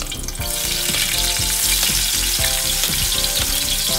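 Garlic frying in hot oil for sautéed squid, a loud, dense, continuous crackling sizzle heard up close with no voices.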